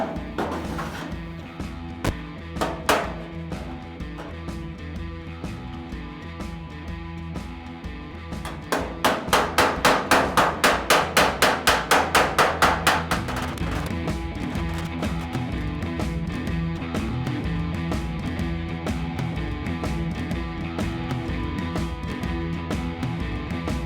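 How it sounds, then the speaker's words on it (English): Hammer and dolly knocking a dent out of a steel body panel on an Alfarrari 105 project car, heard as a burst of rapid metallic taps with sparse knocks before it, under a steady background hum. "I am going to see what I can do now with hammer and dolly and see if I can knock that out a little bit"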